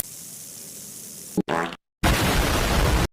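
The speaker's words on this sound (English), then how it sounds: "If you fart in the middle of a surgery, it can cause a..." Comedic fart sound effect: a brief pop, then a buzzy flapping burst, then a longer, loud, noisy blast, all sharply cut and close.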